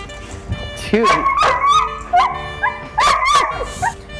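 Dogs barking, yipping and whining in a dog facility, with a larger dog reacting aggressively toward another; several sharp close barks and whimpers come in bursts.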